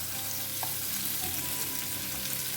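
Stuffed squids fry in oil in a pan on medium flame, giving a loud, dense, steady sizzle with a faint scrape as they are turned.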